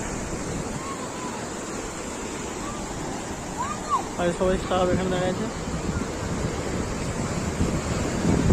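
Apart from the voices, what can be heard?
big sea waves at Mandarmani beach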